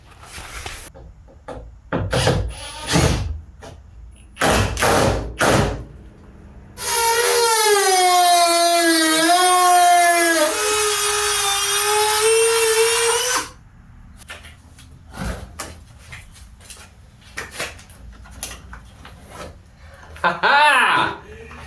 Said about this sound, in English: So let's take the bumper off and see what happens.